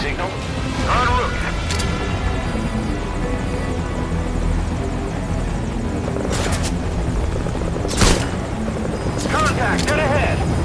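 A helicopter in Metal Gear Solid V: Ground Zeroes thrums steadily as a sustained rotor rumble, with voices talking over it and sharp bangs breaking through now and then.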